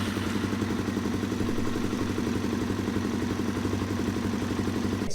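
A Suzuki DRZ400 motorcycle engine runs at a steady idle, a continuous low throbbing with a faint mechanical clatter, close by and unchanging throughout.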